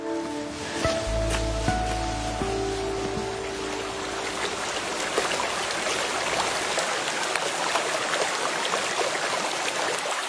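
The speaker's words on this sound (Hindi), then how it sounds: "मैं ऐसी जलधाराओं से पानी नहीं पी सकता।" Water in a wild stream rushes and splashes continuously, a dense, fairly loud broadband flow heard alone, with a brief tonal whine early on.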